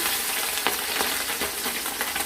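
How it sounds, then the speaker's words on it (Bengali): Small fish shallow-frying in a pan as they are browned and turned, giving a dense, steady crackling sizzle with a few soft scrapes of stirring. The sound is close and continuous, with no talking. "এইভাবে আমরা লাল লাল করে সবগুলো মাছ ভেজে তুলে নেবো"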